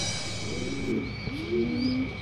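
Racing pigeons coo in soft, low rising calls, two overlapping phrases over steady background hum, moderately close.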